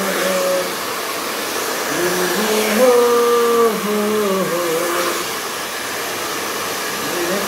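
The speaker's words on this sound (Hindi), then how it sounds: "अभी थोड़े बहुत गीले हैं तो मैं इसको थोड़ा सुखा ले रहा हूँ" A hair dryer blows steadily up close while drying freshly washed wet hair, a constant whooshing whir whose pitch shifts and wavers as it moves, with no talk.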